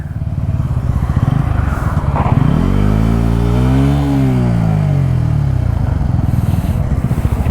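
Pulsar N160 and Apache 160 4V motorcycles race side by side, their engines droning loud and close as they accelerate and rise in pitch, then ease off with steady exhaust pulsing throughout.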